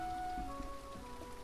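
Rain falls in the game Teddy's Haven, a soft, steady patter at low level beneath faint sustained background tones.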